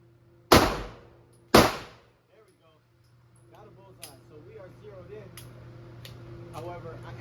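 Two loud, sharp rifle shots from a cheap custom-built rifle, about a second apart and heard close, followed by quieter handling clicks and someone talking.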